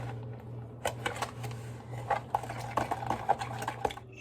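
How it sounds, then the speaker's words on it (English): Lemon zest is stirred into lemon bar batter in a bowl: soft, irregular clinks and scrapes of a utensil against the bowl, fairly faint and close, growing busier toward the end with no talk. "I'm gonna now mix it together."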